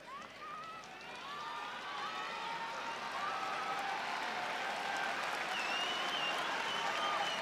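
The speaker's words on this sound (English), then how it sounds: "Great applause here at Saitama Super Arena for Don Fry." Large arena crowd at Saitama Super Arena during the PRIDE 34 mixed martial arts event applauds in a steady, dense wash of clapping that swells slightly and holds, with faint cheers and voices mixed in.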